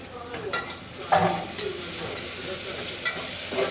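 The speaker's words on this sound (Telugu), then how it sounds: "కొంచెం పచ్చి వాసన పోయినంత వరకు వేయించుకుంటున్నానండి" Ginger garlic paste frying with reddish-browned onions in a pan, a close, steady sizzle broken by a few spoon scrapes and stirring clatters.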